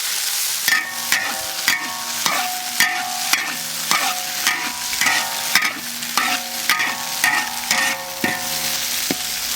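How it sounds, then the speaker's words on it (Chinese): Beef tripe being stir-fried with chili, garlic and scallion for spicy tripe, a close, loud, rhythmic clatter of a spatula striking a wok over continuous sizzling, repeated scrapes roughly every half second, no talking. "给它炒一下啊"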